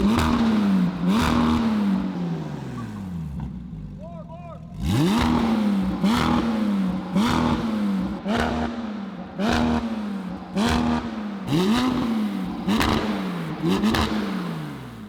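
A McLaren 720S with a newly installed exhaust revs repeatedly, about nine sharp throttle blips rising and falling after a brief dip near idle, loud and close.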